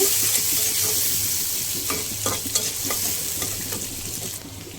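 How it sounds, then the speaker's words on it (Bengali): Onions frying in oil in a pan, cooked until reddish for a tangy prawn curry, give a steady close sizzle with a few scraping stir strokes near the end. "এবার আমি পেঁয়াজটা লাল লাল করে ভেজে নেব"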